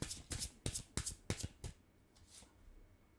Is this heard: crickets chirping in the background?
no